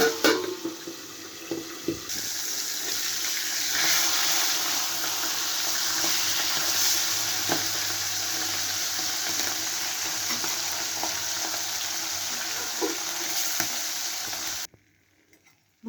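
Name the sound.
fish frying in bubbling oil, pan being covered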